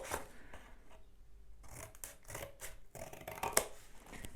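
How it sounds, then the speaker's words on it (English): Scissors snip two straight cuts into a cut-out triangle shape while making the tail of a homemade wind vane, with close, scratchy cutting strokes and short pauses and no talking. "cut two straight lines from the two tips"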